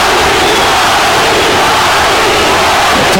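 Boxing crowd cheering and roaring during a Johnny Tapia vs Danny Romero fight, a dense, loud, continuous wall of voices throughout.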